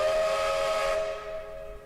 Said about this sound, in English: And the train keeps going.